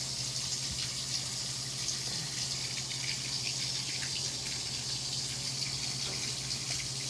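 Water poured during clothes washing, a steady, fairly loud rush of flowing water over a constant low hum, unbroken for several seconds with no talking.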